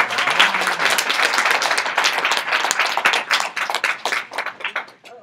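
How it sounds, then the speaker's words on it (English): Audience at a panel event breaking into a burst of dense applause, loud and sustained before thinning into scattered claps toward the end. "Can we give her a round of applause?"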